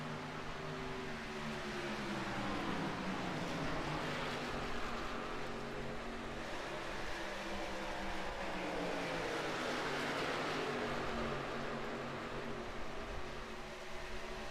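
Race car engines in a sim-racing cup series at Michigan, a steady continuous droning whine of several cars circulating, moderately loud with no talk over it.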